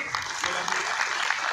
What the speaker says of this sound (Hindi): सभी तालियों से स्वागत करेंगे।